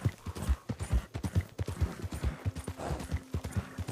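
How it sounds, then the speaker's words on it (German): Rhythmic hoofbeats of a horse running at a steady gallop in Red Dead Redemption, close and clear, with a faint low hum underneath. "Lauf schneller, du Pferd"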